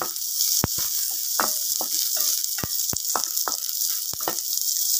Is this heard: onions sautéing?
yes